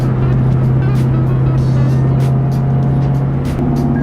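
A Ford Mustang Mach 1 drives on the road during a rolling photo shoot, giving a loud, steady engine drone with constant road rumble throughout.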